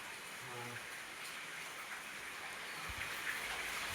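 Light drizzling rain in a home courtyard, a soft steady patter of fine drops, faint and even, with a brief low thump near the end.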